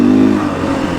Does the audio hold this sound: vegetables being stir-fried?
no